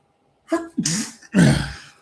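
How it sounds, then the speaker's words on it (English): A single close, sharp sneeze with a quick inhale buildup, then a loud explosive burst that trails off. "I'm sneezing."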